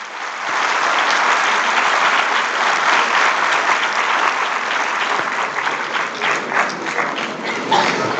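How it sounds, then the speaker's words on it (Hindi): Loud, sustained applause from a large audience at a university convocation ceremony, a dense wash of clapping that holds steady for several seconds with no talk over it. "एक बार सब लोग उन सब के लिए जोरदार ताली बजाएं।"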